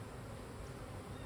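Honeybees hum in a dense, steady buzz right up close during a hive inspection, a constant drone with no voices over it.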